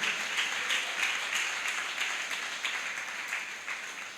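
A church congregation claps in steady, rhythmic unison during a worship service, a moderately loud beat of many hands repeating about twice a second and fading slightly toward the end.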